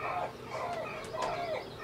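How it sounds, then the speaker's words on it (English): A single rooster crowing outdoors on a rural island, the call rising and falling in one drawn-out phrase heard from a moderate distance. "I think my rooster is agreeing with me in that nature will win."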